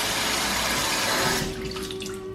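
Warm water running from a kitchen tap over dates being prepared for a vegan recipe, a steady close splashing rush that cuts off abruptly after about a second and a half, leaving a faint hum.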